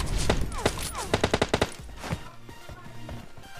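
Gunfire in PUBG Mobile Lite: a quick run of five or six sharp, evenly spaced shots amid other scattered bangs, fairly loud, then fading into quieter game sounds.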